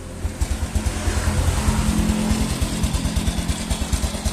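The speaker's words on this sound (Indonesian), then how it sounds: "Jadi gini bunyi mesinnya" A motorcycle engine running on Shell Advanced AX7 10W-40 oil at about 47,000 km, idling with a slightly rough, steady low throb and rhythmic pulsing exhaust, heard up close and alone.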